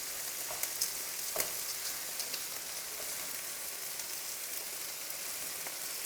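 Coquillettes pasta stirred in hot oil in a pan while making a risotto, a steady, fairly close crackling sizzle with light scraping clicks of a spoon against the pan.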